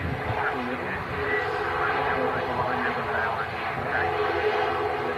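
An Aer Lingus ATR 72 turboprop airliner arriving from Belfast Harbour gives off a steady, loud droning engine roar with a propeller hum, continuous through the whole stretch.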